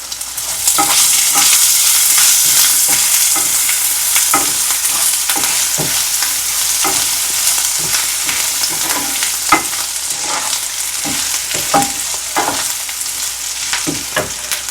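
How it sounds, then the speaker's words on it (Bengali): Potatoes frying loudly in hot oil as ginger is tempered in for mocha ghonto, a dense continuous sizzle with repeated scraping stirs of a spatula against the pan throughout. "এবার আলু হয়ে গেছে এবার আমি আদাটা ফোড়ন দেব"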